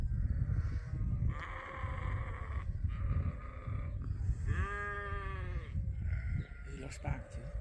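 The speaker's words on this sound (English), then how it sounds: "The running of the ewes, not the running of the bulls" Ewes on a sheep farm bleat loudly as they run, several overlapping calls rising clearly above constant trampling and outdoor noise, with someone speaking at intervals.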